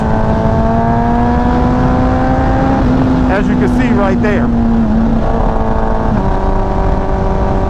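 A Kawasaki ZX14R motorcycle with a VooDoo exhaust roars at high revs in a steady, loud, close, high-pitched drone while someone briefly speaks over it.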